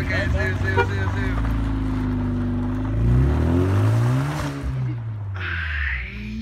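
A car engine revs and rumbles close by, its pitch climbing and falling through the middle of the clip, while people talk over it at a campsite.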